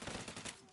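A short burst of rapid gunfire in a PS4 shooter game, loud and close, with the shots running together for under a second.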